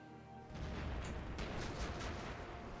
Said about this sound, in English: I hear cannons. It's just the naval battle.